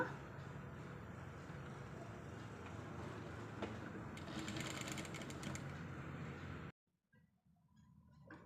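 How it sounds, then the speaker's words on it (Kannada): A sewing machine stitches a line of seam on a fabric pencil pouch, running as a steady close whirring motor with rapid needle chatter for several seconds, then stopping abruptly and leaving quiet room sound. "ಇದಕ್ಕೆ ಒಂದು ಲೈನು ಹೊಲಿಗೆಯನ್ನು ಹಾಕೋಣ"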